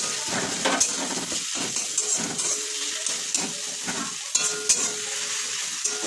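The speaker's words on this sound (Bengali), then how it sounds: "কিছুক্ষণ নাড়বো।" Food frying in a pan with ginger paste, stirred continuously, giving a dense sizzle and hiss with irregular scraping and clinks of the utensil against the pan.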